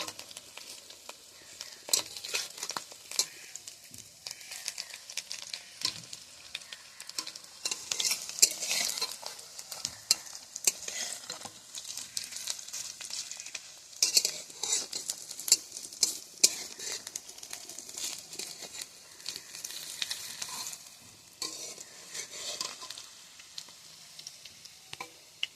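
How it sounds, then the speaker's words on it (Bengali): Malabar spinach leaf fritters fry slowly in a pan over a wood-fired stove, a soft continuous sizzle with scattered light scrapes and clinks of a utensil; no one speaks. "একটু সময় নিয়ে আস্তে আস্তে করে জাল দিয়ে ভাজতে হবে।"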